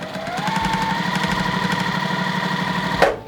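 A sewing machine stitches quilt pieces with a steady, fast, even needle rhythm over a motor whine, running close and continuous before a brief clunk as it stops.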